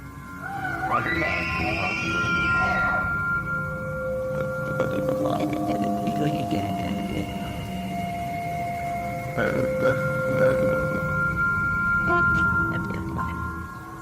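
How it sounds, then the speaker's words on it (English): A bull elk bugle echoes through a forest, a long eerie wailing call with rising and falling whistle-like tones lasting several seconds, heard alone at moderate distance. "Having listened to some bull elk calls, I have to agree"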